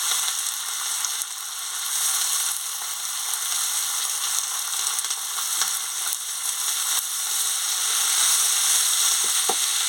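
Vegetables (cabbage, carrot, tomato, eggplant, potato) sizzle and crackle steadily in a hot pan with fried ginger, a constant bright hiss with occasional soft stirring knocks.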